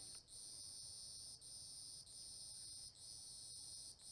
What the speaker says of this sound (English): I don't know if those are cicadas or something like that.